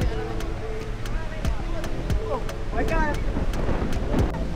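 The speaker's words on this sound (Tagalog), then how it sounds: "lakas ang hangin eh" Strong wind at Lingayen Beach roars and buffets the microphone steadily, with voices talking faintly underneath and a few sharp knocks.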